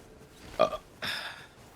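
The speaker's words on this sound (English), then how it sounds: "Was that a coffee-scented burp?" A person lets out a short, abrupt burp followed a moment later by a longer, rougher one, both close and fairly loud with no speech around them.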